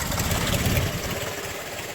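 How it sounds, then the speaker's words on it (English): A small two-cylinder car engine idles close by with a steady, throbbing putter that stays loud and even throughout. "Little 2-cylinder, running like a champ."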